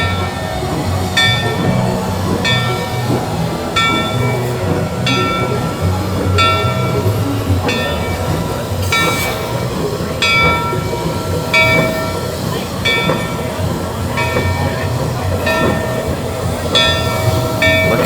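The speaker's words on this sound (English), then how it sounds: "Train's heading out." Train at Knott's Berry Farm leaving the station, a loud steady rumble with rhythmic metallic clicking and squealing wheels, faint voices in the background.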